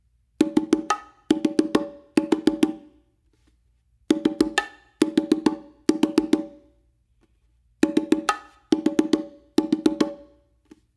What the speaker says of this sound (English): that right there is probably like one of my favorite little combinations or riffs that you could do on Bongo